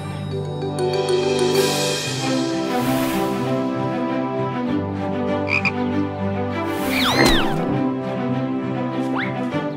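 A frog croaking loudly and repeatedly up close, rhythmic rasping calls over a background of cartoon music and small effects.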